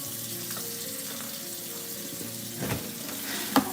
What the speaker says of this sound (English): Let the water run over it.